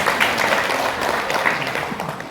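Seminar attendees at a hotel training session clap together in a brief, moderately loud round of applause that stays steady throughout.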